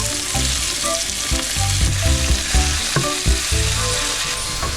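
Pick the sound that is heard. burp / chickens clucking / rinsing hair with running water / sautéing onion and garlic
sautéing onion and garlic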